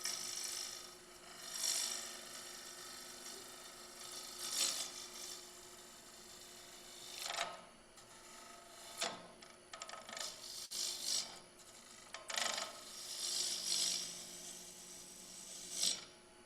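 Bowl gouge sweeping across a spinning wooden bowl blank on a lathe, during a woodturning session with metal melted into the wood; repeated scraping, rasping cuts in short bursts over a steady motor hum, fairly close.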